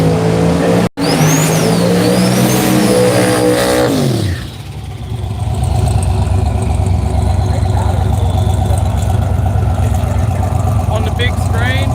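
Radial drag racing cars at an Australian event, a loud, close engine roaring and revving up in pitch, then a deep, rumbling idle and engine drone that carries on steadily to the end.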